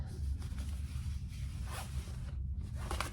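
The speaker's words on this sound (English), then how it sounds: "now I have my zipper" A zipper is handled and pulled while a retro-style sling bag is being sewn, giving several short, close, scratchy zips and rasps over a steady low hum, with no voices.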